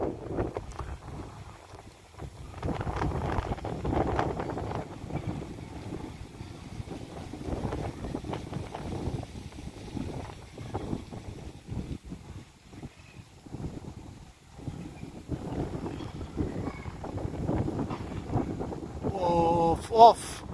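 Very strong wind buffeting and roaring across the microphone at an outdoor Istanbul bird market, gusting unevenly throughout, with someone talking over it.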